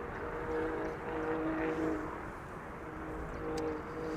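A JetBlue airliner from Boston landing on runway 06 at Amsterdam Schiphol, a steady distant engine roar with a low droning hum that swells slightly and holds throughout, with no voices.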